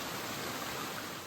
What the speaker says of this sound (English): You can choose your waterfall,